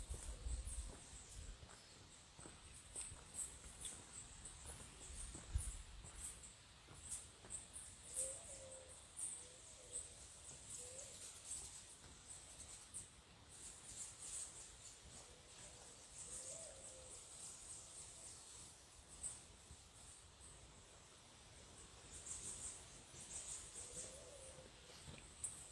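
Faint birdsong drifts through a quiet botanical garden, with soft coos and scattered chirps over a low, steady hiss.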